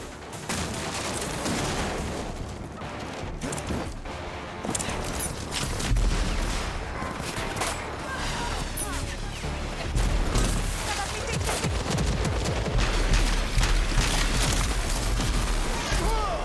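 Dense gunfire and explosive booms in the shooter game Rage 2, continuous bursts throughout with heavier low thumps in the second half, loud and busy, with a voice speaking over the battle.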